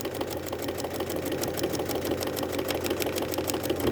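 A sewing machine stitches steadily through a sampler quilt block, a fast continuous run of needle strokes with a motor hum underneath, close and even throughout, with no talking.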